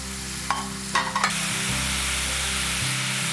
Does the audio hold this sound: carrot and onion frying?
yes